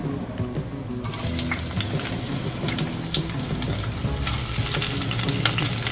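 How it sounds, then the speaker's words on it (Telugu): Dried prawns sizzle and crackle steadily in hot oil for an Andhra-style gongura prawn curry, a dense close frying hiss with scattered pops and light stirring clinks, no voices. "ఇప్పుడు రొయ్యలు వేయించుకోవాలి"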